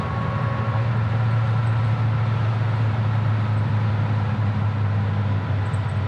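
A 1957 Chevrolet Bel Air cruises on a bumpy road, its engine a steady, low, loud drone heard from inside the car with road rumble underneath and no clear gear change.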